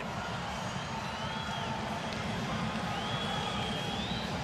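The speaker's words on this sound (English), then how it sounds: "I got to see how the judges go react to all this crowd noise" Steady arena crowd roar fills the 1993 NBA Slam Dunk Contest, a dense, continuous murmur and cheer at even loudness throughout, with faint whistle-like tones drifting above it.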